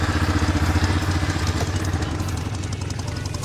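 A Sun Buggy quad's small engine runs at a steady idle right after starting, with a close, even mechanical throb and light clatter throughout.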